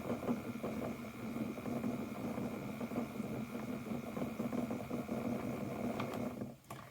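Electric Eel Wheel Nano spinning wheel motor running steadily, a constant close mechanical whir with a faint rhythmic rattle throughout, stopping abruptly at the end.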